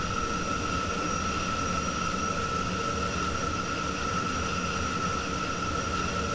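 Jet engine of a Falcon aircraft running, heard from inside the cabin after startup before taxi: a constant loud whine with a steady high tone and broad roar, unchanging throughout.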